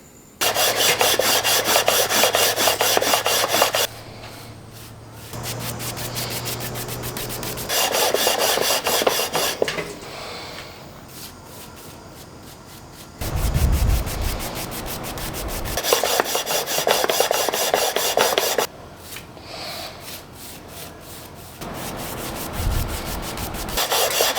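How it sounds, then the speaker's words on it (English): Steady, raspy sanding strokes on a wooden guitar fretboard being radiused, close and continuous, coming in long stretches that alternate between louder and softer passages with brief pauses. "I'm ready to start sanding again"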